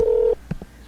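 A telephone gives a single steady electronic tone lasting about a third of a second, followed by two short, quieter beeps, close and clear in a quiet room.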